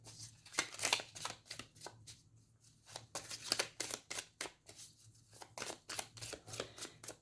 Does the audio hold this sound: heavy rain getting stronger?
no